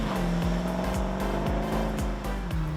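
A classic Mopar V8 roars steadily and loud while driving, with repeated gear-change dips and rising revs in a continuous close engine drone.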